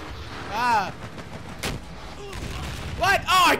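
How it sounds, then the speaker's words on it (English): Several loud booming blasts go off in quick succession in Battlefield Hardline, with a voice speaking briefly between them. "That was a big explosion."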